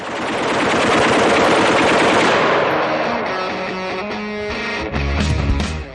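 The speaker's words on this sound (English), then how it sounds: "Machine gun shoots are the quintessential way to celebrate being an American." Machine gun firing in long rapid bursts, loud and close, a dense stream of shots that thins toward the end with a few separate reports.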